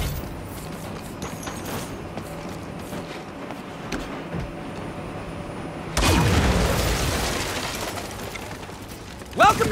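Tank cannon fire and explosions during a train robbery mission in the Saints Row video game, steady rumbling game noise followed by a loud broadband blast and a sharp boom near the end.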